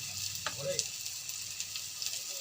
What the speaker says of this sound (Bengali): আমটা ভালো করে ভেজে নেব।